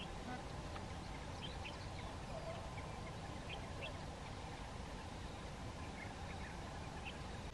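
Bar-headed geese calling at a dam near Lonar lake, scattered honking calls from a large flock, fairly distant over a constant wind-like background rumble.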